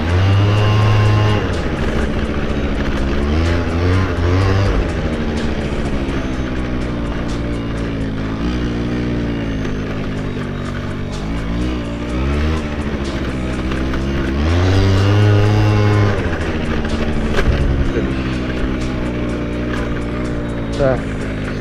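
A scooter engine runs loud and close throughout a ride, its droning pitch rising and falling as the throttle changes, with a person talking over it on a street with little traffic.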